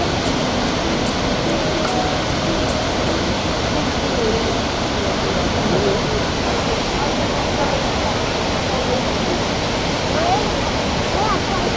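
Steady roar of Pachal waterfall in Kalikot, Nepal, heard near and loud as continuous broadband rushing water for the whole stretch, with no voices over it.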